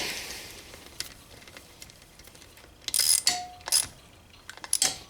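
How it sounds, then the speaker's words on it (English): A ratchet tightens bolts during lower end assembly of a 4 mil stroker engine, heard as close, sharp bursts of clicking that come in several separate runs after a quieter start. "I'll just use my ratchet real quick."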